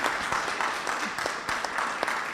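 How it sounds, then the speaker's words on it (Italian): Crowd applauding after a torchbearer ceremony at the Sacrario delle Bandiere, a continuous roll of many hands clapping with individual sharp claps popping out, moderately loud and sustained. "ecco l'applauso per questo momento"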